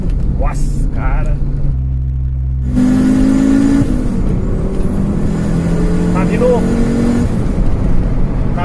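Fiat Marea turbo car accelerating in a long first gear: a loud, steady engine drone that climbs in pitch, close to the listener, with brief voices heard over it.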